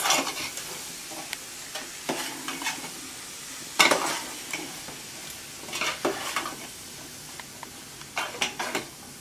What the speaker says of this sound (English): Let that continue to saute.